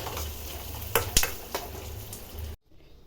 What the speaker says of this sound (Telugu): బాగా ఫ్రై అవ్వాలి.